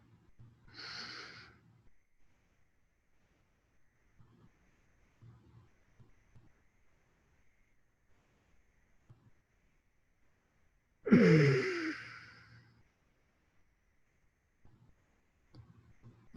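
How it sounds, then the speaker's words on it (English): Two deep breaths come near and alone in a quiet room: a softer inhale near the start, then a louder, longer breath about eleven seconds in, with faint sounds between them. "Take a deep breath."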